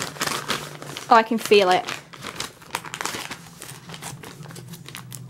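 Crinkling and crumpling of wrapping paper with tape being pulled from a birthday present, a steady close rustle under excited talk.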